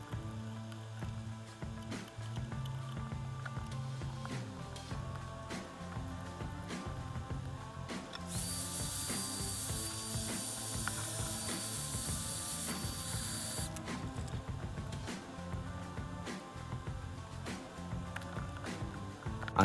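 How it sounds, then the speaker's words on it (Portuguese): A GALAX RTX graphics card being taken apart, with small mechanical clicks, ratcheting screwdriver turns and handling noises close by, plus a steady hiss partway through, all without speech. "bora desmontar essa placa para ver de perto"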